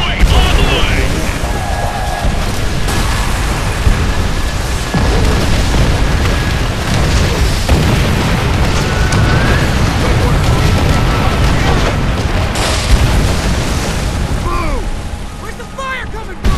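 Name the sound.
rocket strike explosions in a video game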